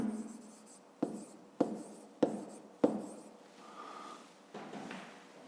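Pen or marker writing out a fifth-grade maths solution, a series of sharp strokes and taps at roughly one-second intervals, each followed by a softer scratching tail, close and fairly quiet with no talking.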